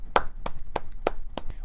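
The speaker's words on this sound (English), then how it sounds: "If we can all give a big round of applause, make it loud" A handful of separate handclaps from a concert audience at an SRJC Band & Orchestra event, about six sharp, spaced-out claps close by rather than full applause.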